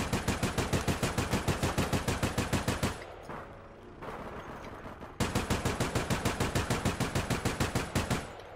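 Automatic gunfire in the video game APB Reloaded, loud rapid bursts of evenly spaced shots that pause for about two seconds amid quieter background noise before a second long burst resumes.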